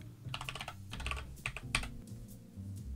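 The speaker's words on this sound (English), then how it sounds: "I'm going to type in Pulp Fiction." Computer keyboard typing a short title into editing software, a quick run of soft clustered keystrokes in bursts, close and fairly quiet with no talking.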